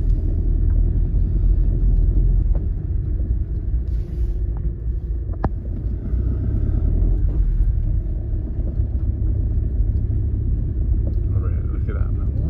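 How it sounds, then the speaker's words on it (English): A farm tractor drives past on a European road, its deep rumbling engine holding steady and loud close by for the whole stretch, with faint voices in the background. "Man with his tractor."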